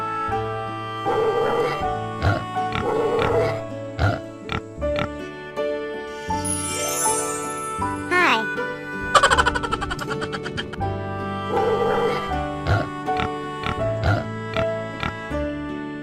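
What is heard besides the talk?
pig oinking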